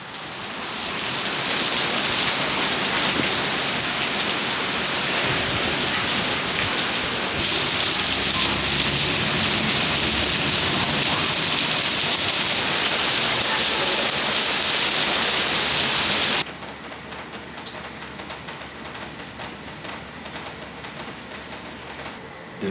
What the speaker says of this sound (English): This may be the hardest I've ever seen it rain here.